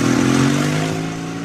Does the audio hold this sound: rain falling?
no